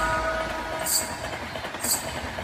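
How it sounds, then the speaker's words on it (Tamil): A fast-moving train rumbles steadily along the rails, with a broad continuous roar and two brief bright hissing surges about a second apart, loud and close with no voices. "வேகமாக ஓடிக்கொண்டிருந்தது ரயில்."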